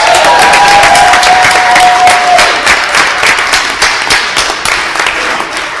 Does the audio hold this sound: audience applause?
yes